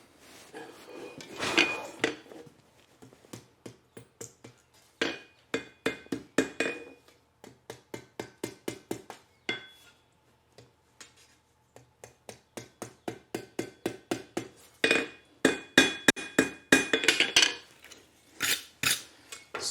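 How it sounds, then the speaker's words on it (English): A hot forged steel cocktail stirring spoon is knocked against an anvil in long runs of rapid, ringing metallic taps, close and fairly loud, with short pauses between bursts. "I can set it right here and knock it against the anvil"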